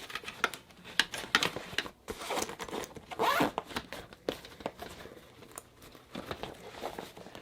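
Zipper on an easel carrying bag, pulled in a series of short and longer rasping zips with crinkling fabric handling in between, close and clear.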